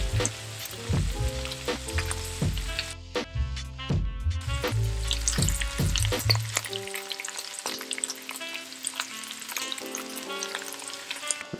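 Burrito filling with beans frying in a pan, a steady close sizzle with stirring, under background music.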